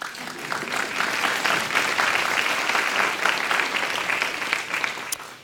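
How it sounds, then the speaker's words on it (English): A hall audience at an international education panel breaks into steady, full applause that holds evenly before tapering at the end. "you can applaud because these people are exceptional"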